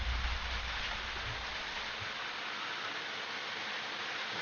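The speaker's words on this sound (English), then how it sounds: "It's actually raining." Rain in the video game Library of Ruina makes a steady, dense hiss that stays even and fairly soft from start to finish, with no voices.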